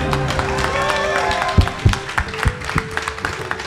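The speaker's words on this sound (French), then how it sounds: "applaudissez-vous" An audience at a live tabletop role-playing game event claps for the players, a steady patter of applause with a few louder claps over sustained background music.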